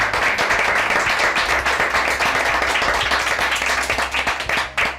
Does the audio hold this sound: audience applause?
yes